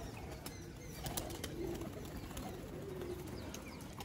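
Pigeons cooing steadily in a loft setting as the flock settles down, soft repeated low coos under a constant bed of wing flutter and ambient noise, with no voices.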